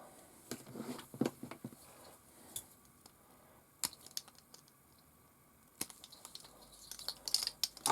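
Tamiya plastic model parts snipped off a part tree with cutters, giving a few sharp close clicks and crisp snaps spread unevenly among quiet handling and rustling, with no talk.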